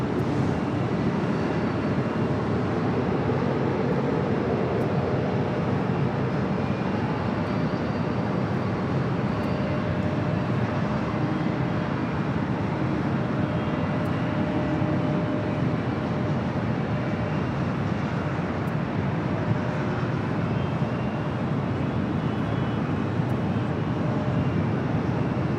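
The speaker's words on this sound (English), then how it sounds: "Air France Flight 25 to 777-300ER heading back to Paris" An Air France Boeing 777-300ER taking off at Los Angeles International Airport, a loud continuous jet-engine roar that holds steady for the whole stretch, heard from a distance with no voices.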